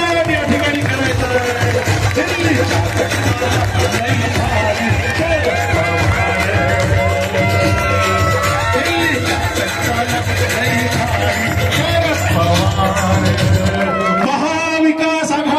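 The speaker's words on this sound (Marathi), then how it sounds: "साहेबांसाठी प्रचंड टाळ्यांचा कडकडाट या ठिकाणी करायचा" A large crowd at a political rally breaks into sustained applause and cheering, a dense loud roar of clapping that holds for most of the stretch before cutting off near the end.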